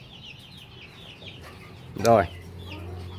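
Chickens in a chicken coop clucking softly and chirping, then one loud close squawking cluck near the middle before the quieter calls continue; someone briefly speaks.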